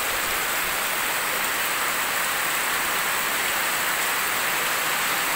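Steady, dense heavy rain pouring down, a continuous loud hiss of water with no voices or other sounds breaking through.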